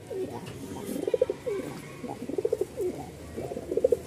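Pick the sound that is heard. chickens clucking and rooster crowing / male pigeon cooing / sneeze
male pigeon cooing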